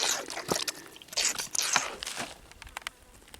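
Water trickles and drips onto a piece of jasper rock, a string of small wet drips and splashes close by, with brief splashy bursts and quieter single drops between them.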